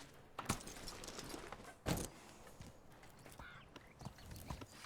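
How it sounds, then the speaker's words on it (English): Horse hooves clip-clopping in the medieval life-sim game Medieval Dynasty, with an overloaded pack horse; a few scattered hoof thuds and clatters come through quietly over a soft, busy game background. "The horse is slightly overloaded,"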